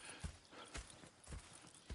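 Horse hooves clip-clopping in Red Dead Redemption 2, a few soft, evenly spaced dull thuds at a walking pace, quiet and slightly distant.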